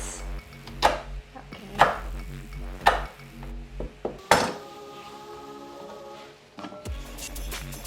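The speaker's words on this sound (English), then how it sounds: "Yes, chopped all the beans." Knife chopping large green beans on a board, a few sharp separate thuds spaced about a second apart with faint clinks between, and a brief word spoken.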